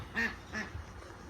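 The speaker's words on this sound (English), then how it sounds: "I guess we got some new ducks" Outdoors beside a front-yard pond, ducks give two fairly faint quacks about a third of a second apart, followed by softer rustling.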